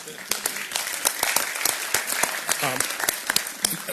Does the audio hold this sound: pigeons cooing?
no